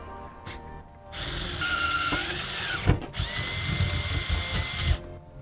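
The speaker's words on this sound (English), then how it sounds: "we've drilled the holes that you need to mount the aluminum plate to the L-track" A power drill bores holes in an aluminum plate for mounting to L-track, close and loud, running in two sustained whining bursts with a short pause and rough grinding bites between them.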